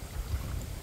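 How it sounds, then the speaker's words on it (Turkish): Wind gusts across a lake between reed beds during carp fishing, a low steady rushing rumble with buffeting on the microphone and no voices. "Biraz fazla rüzgar var"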